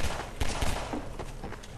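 Firecrackers go off in the video game Half-Life 2: Episode Two, a quick cluster of loud, close, sharp pops and cracks over a rumbling background.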